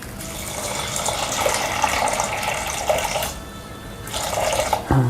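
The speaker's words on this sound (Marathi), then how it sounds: "याच्यात पाणी टाकूया." Water pours steadily into a pressure cooker holding misal ingredients with turmeric, a continuous close splashing fill that pauses briefly and then resumes, ending with a soft knock.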